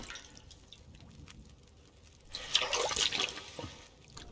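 Water collected in The Long Dark survival game, a quiet watery rush that swells in the middle and then settles, with soft trickling around it and no voices.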